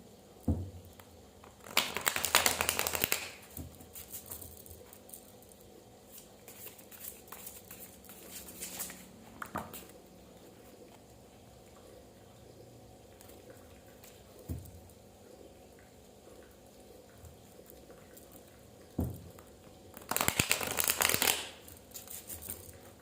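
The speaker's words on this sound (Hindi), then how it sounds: "Let me just shuffle the cards for you." Tarot cards are shuffled in two short, crisp bursts of riffling and slapping, one near the start and one near the end, with quiet rustling and faint handling between and no speech.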